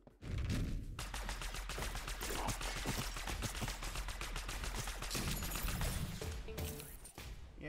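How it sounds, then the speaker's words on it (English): Rapid gunfire in a video game, a sustained stream of fast, sharp shots fired close and loud for several seconds, thinning out near the end with some mechanical clanks. "Yeah, we might just shoot a few bullets."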